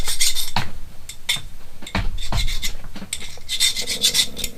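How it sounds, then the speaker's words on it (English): A hand file rasps a burr smooth on a cut metal piece during a Combi cam install, in a series of short, loud, close scraping strokes with brief pauses between them. "Grab a file and clean it just a hair."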